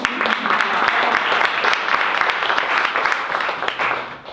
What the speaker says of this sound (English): You guys can clap, that's impressive.